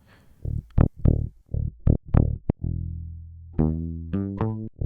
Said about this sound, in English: This bass sound without the processing